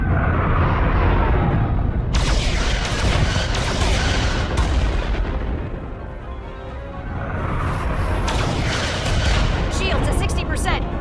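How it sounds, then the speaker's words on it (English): Photon torpedoes fire during a starship battle in the Star Trek: Resurgence video game, heavy booming launches and impacts in rapid bursts layered over rumbling combat noise, with voices speaking amid the barrage. "Fire photon torpedoes!"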